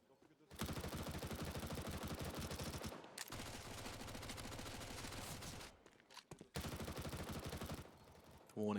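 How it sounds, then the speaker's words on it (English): Rattling automatic gunfire in a Counter-Strike match on Inferno, warning shots sprayed into smoke at the B site: three long, loud, sustained bursts of rapid fire separated by brief pauses. "Warning shots being rattled into the smoke thrown out by the CT on B"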